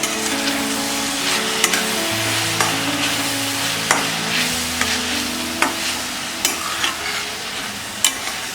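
Ginger garlic paste and green chilies frying in a pan for egg biryani, a low sizzle punctuated by regular clinks and scrapes of a spoon stirring, with soft background music and no talking.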